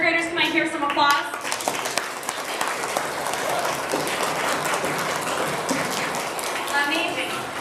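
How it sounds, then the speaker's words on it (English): Third-grade children at a school performance burst into loud, dense applause that continues steadily, following a brief stretch of a voice and music before it starts. "Third graders, can I hear some applause?"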